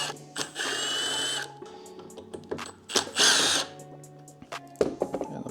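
A power drill backs screws out of a Crazycart kart, with two bursts of whirring motor, then clicks and handling of loose parts, close and fairly quiet.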